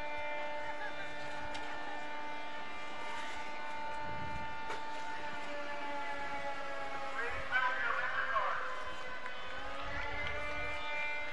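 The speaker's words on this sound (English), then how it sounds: "That's the fire whistle. It's not an emergency, though." A town fire whistle wails steadily during a farmers day parade on a main street, a sustained tone held throughout the clip over crowd noise and a brief voice.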